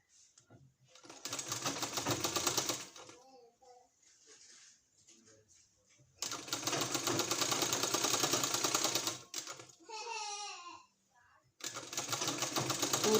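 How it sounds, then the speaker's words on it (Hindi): A sewing machine stitches a fabric strip onto a sleeve in three loud, close bursts of rapid whirring, separated by pauses where a person speaks. "इसको इस तरह से हमको इसमें सिलाई करना है इस तरह से।"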